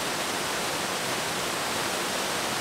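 Allerheiligen waterfalls roaring as a loud, unbroken rush of falling water, a dense steady hiss heard up close with no voices above it.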